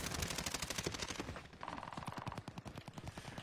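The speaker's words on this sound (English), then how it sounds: "How many rounds do I have to put into him?" Rapid automatic gunfire in the shooter game Warzone, a fast loud stream of shots in close succession with a short change in tone midway, with no talking.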